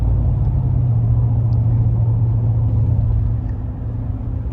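A 2021 Chevy Silverado with the 6.2 engine, 10-speed transmission and a muffler delete, cruising on a wet road with a loud, steady low exhaust drone that eases slightly toward the end.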